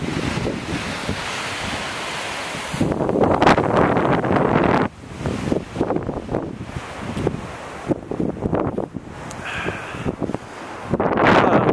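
Strong gusts of wind buffet the microphone in loud, uneven surges, with roaring rushes rising and falling and no talking.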